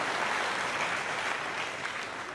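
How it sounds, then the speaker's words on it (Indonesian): A church congregation clapping together during a sermon, a broad wash of many hands at moderate distance, steady and fading slightly toward the end, with no voices over it. "ayo tepuk tangan semuanya."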